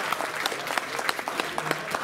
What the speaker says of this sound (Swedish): Men jag tycker att vi ger honom en applåd.